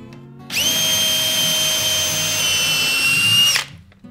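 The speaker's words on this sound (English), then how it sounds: "Just pretty much get back there and drill me a hole" A power drill whines steadily for about three seconds at close range while drilling a hole in a garage, its pitch dipping slightly as it bores through material, then cuts off.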